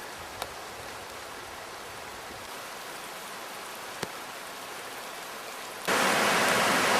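A rainstorm in the hills gives a steady, faint hiss of falling rain, broken by a couple of brief ticks. Near the end the rain suddenly grows much louder and brighter.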